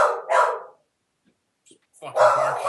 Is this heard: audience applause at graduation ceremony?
no